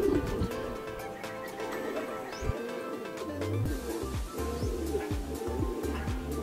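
Racing pigeons arriving at a loft after a training fun race, with soft cooing and wing flutters amid a busy, continuous background of clatter and low rumble.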